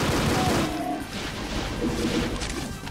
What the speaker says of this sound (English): A supercharged pistol is nice because you can just spam click it